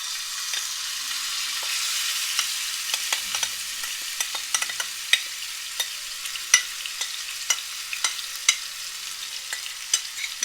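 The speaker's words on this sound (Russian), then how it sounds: "на вторую сковородку вольем 2 столовые ложки масла и выложим наш фарш" Minced meat frying in oil in a pan, a close, steady hiss with scattered sharp pops and crackles while it is stirred.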